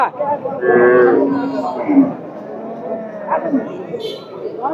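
A cow lows with a drawn-out moo amid people chattering and bargaining nearby at a cattle market, giving a busy outdoor livestock gathering feel.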